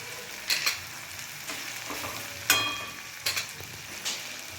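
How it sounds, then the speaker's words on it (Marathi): Ridge gourd sizzles in spiced oil while being stirred, with soft continuous frying hiss broken by several sharp scraping stirs at irregular intervals, close and fairly quiet. "आता ह्याच्यामध्ये जे आपण दोडका चिरून घेतला होता ना ती घालून घेते ह्याच्यामध्ये व्यवस्थित आता मिक्स करून घेते"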